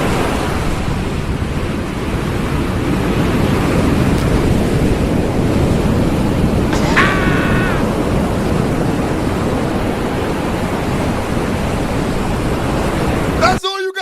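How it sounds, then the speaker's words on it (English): Recorded ocean waves and surf play as a steady, loud, broad rush of wash and wind-like noise, unbroken for most of the stretch, with a brief tonal chirp midway and an abrupt cutoff near the end. "Put the ocean sounds on"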